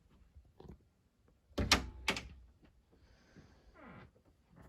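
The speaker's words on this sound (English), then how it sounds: "Let me open up my closet doors and we will take a look." Closet doors opened indoors, two loud close sliding thumps and rattles in quick succession, followed by softer scraping and rustling.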